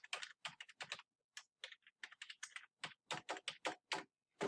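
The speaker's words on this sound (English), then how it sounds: "you can just type in my email here" Quick bursts of keystrokes on a computer keyboard as an email address is typed, close and clear, in short uneven clusters separated by brief pauses.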